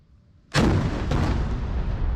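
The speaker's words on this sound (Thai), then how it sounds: "ยิงถล่มสะพานให้มันขาดลึกเข้าไปอ่ะ" Gunfire shelling a bridge in Ukraine, heard as one sudden heavy blast that breaks a quiet moment and is followed by a loud, sustained rumbling roar that does not die away.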